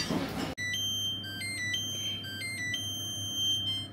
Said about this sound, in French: je suis actuellement devant le four en train d'attendre qu'il sonne pour la fin de la cuisson